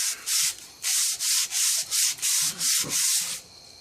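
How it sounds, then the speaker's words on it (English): Heavy-grit sandpaper rubbed by hand along the wooden edge of a skateboard deck, eight loud, rhythmic back-and-forth rasping strokes, close up and alone. "with a heavy grit like this, it actually takes off wood pretty well"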